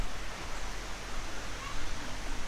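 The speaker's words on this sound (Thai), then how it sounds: "ก็ทำน้ำตกลงมาจากด้านบนนะครับ" An artificial waterfall at a forest campsite gives off a faint, steady rushing hiss of falling water, even and unbroken throughout.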